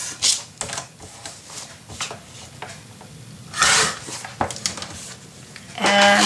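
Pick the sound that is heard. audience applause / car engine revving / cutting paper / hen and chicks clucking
cutting paper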